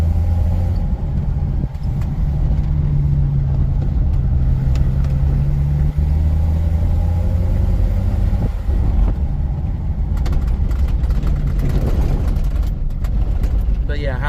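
A Jeep YJ Wrangler with a 4.6 stroker engine drives along a rough road, a loud steady engine drone with some rise and fall in revs and road rumble throughout.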